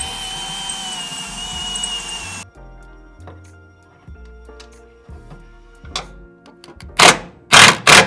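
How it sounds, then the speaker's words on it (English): Quiet clicks and handling noises, then two or three short, loud bursts of a power drill whirring near the end, drilling a hole through a shock bracket on a GMC 1500 pickup. "I'm gonna go ahead and just drill one hole"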